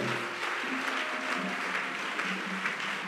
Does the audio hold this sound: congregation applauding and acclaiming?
yes